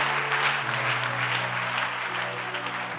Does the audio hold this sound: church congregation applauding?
yes